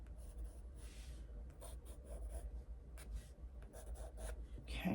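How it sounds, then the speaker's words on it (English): A pencil sketches on paper in quiet, soft scratchy strokes that come in short bursts with brief pauses between them. "we're going to do this initial sketch as always with a pencil"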